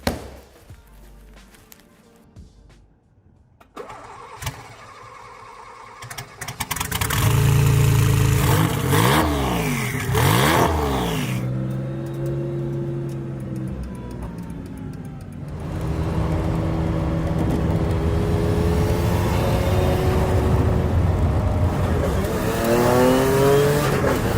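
Supercar engine starting and revving, then accelerating hard on a ride with repeated rising pitch sweeps through gear changes and some tire squeal, loud and close throughout.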